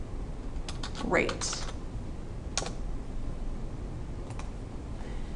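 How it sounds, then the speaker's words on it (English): Computer keyboard keys click in a few short, quick bursts while entering spreadsheet payroll labels, faint beneath a person's speaking voice. "And then hit Alt, enter, and type pay"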